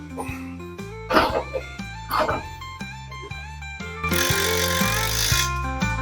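A power tool whirs in repeated short bursts while tightening bolts on an Auger Torque trencher during assembly, the motor pitch rising and falling, nearby and fairly loud, with brief rattles between bursts and a louder sustained run near the end.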